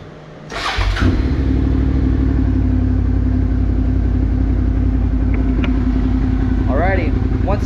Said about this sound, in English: So let's go ahead and get the bike started up.